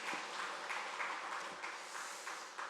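A church congregation applauding: a steady, dense patter of many hands clapping, moderately distant and even in level throughout.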